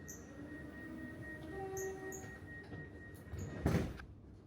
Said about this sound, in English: This train is stopping all stations to Flinders Street.